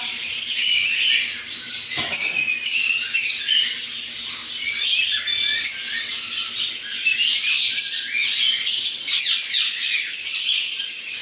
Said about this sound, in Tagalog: Ayun pala maarte canary yun.